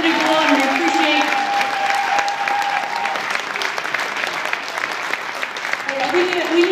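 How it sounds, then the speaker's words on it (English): Basketball fans applaud at a women's basketball celebration at UAF, a steady, loud wash of clapping with a crowd murmur, while a voice speaks over it through much of the clip. "Big round of applause."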